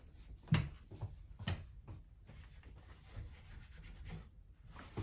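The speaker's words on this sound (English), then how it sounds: "I can make sure all my spots are rubbed in" Finish is rubbed into the feet of a wooden chair with soft, faint rubbing strokes, a few brief louder scuffs standing out against a quiet room.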